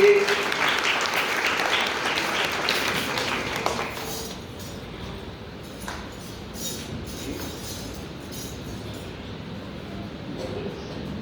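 Clapping from a church congregation during a marriage sermon, a dense burst of applause in the opening seconds that quickly fades into a quieter room murmur.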